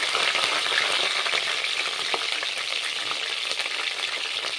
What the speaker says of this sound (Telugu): కరివేపాకు, ఆనియన్ అన్నీ వేసుకొని జాగ్రత్తగా మాడిపోకుండా కలుపుకోవాలి.